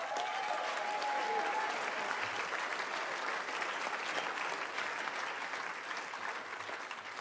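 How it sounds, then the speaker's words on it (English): An election night audience claps in a dense, steady round of applause that holds for several seconds before easing slightly, with no talk over it. "Give him a round of applause."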